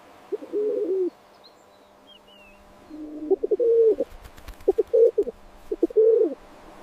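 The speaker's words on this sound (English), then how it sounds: "It's a pigeon." A pigeon coos in a series of soft, throaty phrases, one alone at first, then several repeated bursts close to the listener, with quiet pauses between.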